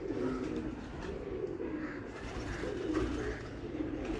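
A Lal Pari breeder pigeon from Kasur gives soft, low, rolling coos in repeated bursts, close up and steady, with no voices.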